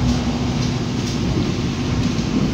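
Steady rumbling roll of a passenger train on the southern line from Surabaya to Jogja entering Sepanjang station, heard from inside a carriage as a continuous low drone, no talking.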